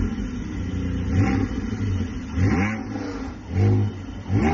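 A 2020 Porsche 718 GTS revs its engine in several rising, swelling bursts over a steady engine drone, loud and close with no talking.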